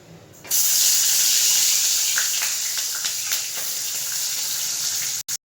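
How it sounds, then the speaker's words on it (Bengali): Bata fish coated in salt and turmeric drop into hot mustard oil in a kadai, setting off a sudden loud hissing sizzle that holds steady for several seconds before a few brief clatters at the end. "এইবার মাছগুলোকে ছেড়ে দেব।"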